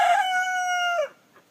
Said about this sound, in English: He is a barred rock, and he rules the roost for sure.